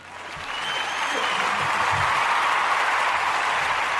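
Steady, sustained hand clapping from a small group, building in the first half second and then holding dense and even for several seconds, with a faint voice briefly underneath.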